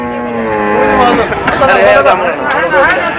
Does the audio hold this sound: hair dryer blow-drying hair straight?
no